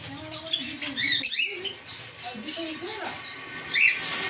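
Java sparrows, including white birds with black eyes, chirping in a sale cage, with brief high tweets among rustling and fluttering and a murmur of human voice.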